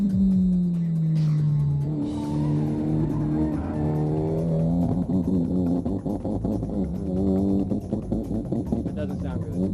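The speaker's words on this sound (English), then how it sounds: "Hot lap for the Mitsubishi. Gonna have to step on it." A boosted Mitsubishi street car on a hot lap around a racetrack, its engine revving hard and climbing in pitch as it accelerates, loud and close throughout, with a brief tire squeal.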